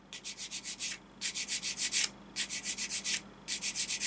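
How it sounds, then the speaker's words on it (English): Plastic model kit seam line being sanded with short, rapid back-and-forth strokes in four bursts of about five or six rubs each, with brief pauses between; close but quiet, no speech. "While you do this, you've got to try your best to keep the sander, as flat as you can."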